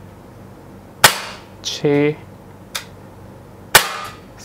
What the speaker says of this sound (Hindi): ये सारे फायर हो गए। सो देख सकते हैं मैंने 16 राउंड्स फायर करे हैं